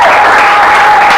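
Sustained applause from a crowd of party presidents and representatives at a political charter signing in Kasa-Vubu commune, Kinshasa, a dense steady clatter of clapping throughout the short moment.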